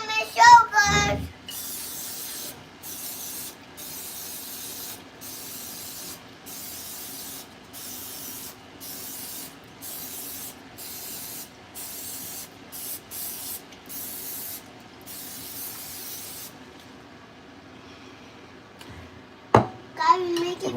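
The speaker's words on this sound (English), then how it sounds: "We're gonna spray the pan" Cooking spray hisses onto a muffin pan in a long series of short, evenly spaced bursts lasting over ten seconds, with a voice chattering at the start and end.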